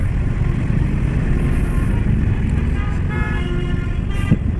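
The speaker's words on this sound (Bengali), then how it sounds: "ওই তারপরে ওই যে পিছন দিক থেকে হর্ন দিতেছে" Car horns honk from behind in a long, crawling traffic jam, short toots rising over a steady, loud wash of engine and road noise.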